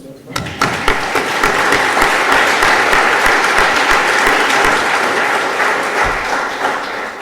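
A large crowd applauds steadily, a dense continuous patter of clapping that holds strong for several seconds before easing slightly.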